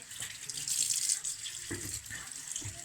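Water from a tap runs steadily over freshly picked young Japanese knotweed shoots being washed in a sink, with a few soft splashes and knocks as the stalks are handled. It sounds close and continuous, with no talk.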